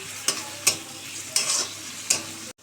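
Chopped onion, chili, garlic and tomato sizzle in a pan, and four distinct scraping strokes of a spatula break through the close, continuous frying before it cuts off abruptly.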